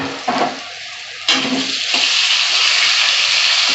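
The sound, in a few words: frying pointed gourd with salt and turmeric in oil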